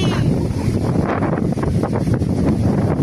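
Strong gusty wind before rain near a bridge, roaring loudly and continuously against the microphone with buffeting surges and no voices.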